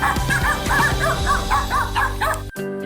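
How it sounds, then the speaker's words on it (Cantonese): Village dogs on a lake island bark and yip in a quick, repeated series of short, close calls with some whimpering, ending in an abrupt cut to quieter background. "肥妞顯然咧就唔受呢度嘅狗村民歡迎啦。"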